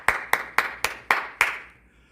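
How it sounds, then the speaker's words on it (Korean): Six sharp, evenly spaced claps ring out, each with a short echoing decay, fading away after the last one, at a church worship service. "우리 다시 한번 하나님께 감사의 박수 드리겠습니다"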